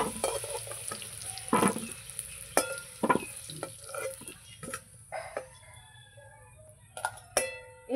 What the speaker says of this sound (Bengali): আলুগুলো এবার ভালো করে ভেজে নেবো, লাল লাল করে।